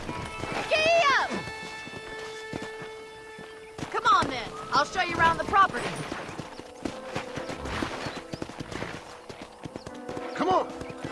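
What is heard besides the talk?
horse hooves clip-clop in video game Red Dead Redemption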